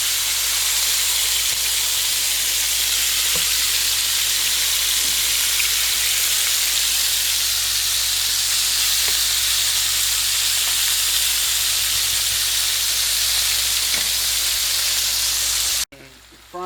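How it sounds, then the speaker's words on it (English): Cubed bison meat frying in a pan, a steady close sizzle and hiss that runs unbroken for about sixteen seconds before cutting off abruptly. "Frying up our last batch of meat."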